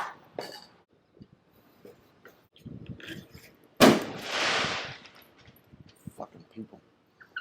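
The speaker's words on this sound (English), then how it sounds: "What the heck is doing fireworks?" Fireworks go off outdoors during an electric scooter repair, one sharp loud bang followed by a crackling burst that fades over a couple of seconds, with scattered quieter pops and handling noises before and after.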